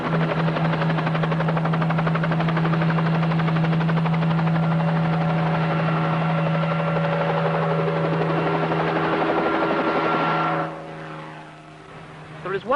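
Steady, loud military helicopter rotor drone with a constant low hum, continuing for several seconds before fading away near the end.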